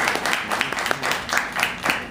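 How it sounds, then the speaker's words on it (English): An audience applauds Sully Sullenberger, the pilot who landed a plane on the Hudson, with a steady wash of clapping and a few sharper claps standing out, moderately loud and continuous without a voice over it. "Round of applause for Sully."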